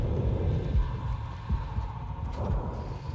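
A low, muffled heartbeat thumping in Silent Hill 2, a few soft pulses under a dark ambient hum, quiet and distant.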